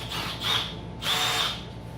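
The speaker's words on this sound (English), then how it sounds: "We drill 1/8 inch holes where the screws are." Power drill boring 1/8 inch screw holes during a lathe motor upgrade, in two loud whining bursts with a quieter motor hum between them, no talking.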